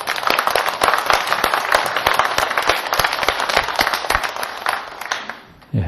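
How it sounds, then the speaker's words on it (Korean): A church congregation claps loudly in unison, sharp rhythmic claps at a steady quick beat that run for several seconds, then fade out briefly before a final burst. "우리 하나님께 영광의 박수 올리겠습니다"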